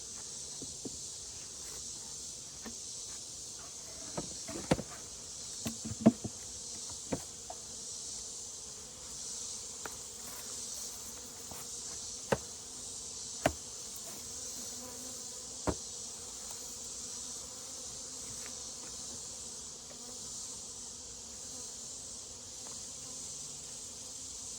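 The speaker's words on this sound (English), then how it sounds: "There are a few bees in here, but it's not too bad." Bees hum around an open, full beehive as empty frames are added, a faint, steady buzzing drone punctuated by a few soft knocks and clicks from handling the hive.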